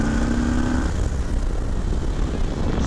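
A 2020 Harley-Davidson Low Rider S motorcycle engine drones loudly and continuously on a test ride, heavy wind rush blending with the steady close rumble.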